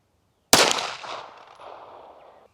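A single pistol shot fired with CCI Blazer 230 grain ball ammunition in aluminum cases cracks sharply and loudly, then echoes and fades away over about two seconds.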